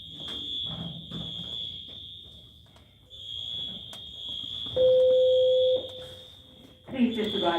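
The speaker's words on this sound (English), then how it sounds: "Please disregard the fire alarm." A fire alarm goes off during a school fire drill, its shrill steady tone running almost without break, with one brief gap, while people talk and a lower beep cuts in partway through.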